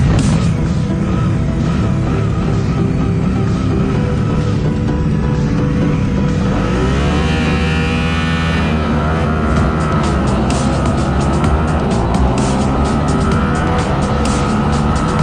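Race cars roar off the start at the Lédenon circuit in France, a loud continuous engine din with rising and falling revs, a swelling pass-by in the middle and brief tyre squeal, with no talking.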